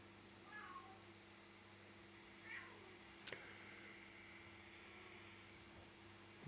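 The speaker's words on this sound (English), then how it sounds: "In the background, you can hear my cat meowing." A house cat meows softly a few times in the background of a quiet room, the calls faint and spaced apart over a low steady hum.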